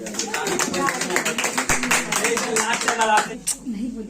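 Students in a Sunday computer class clap together, a busy patter of many hands lasting a few seconds, mixed with speech from the room.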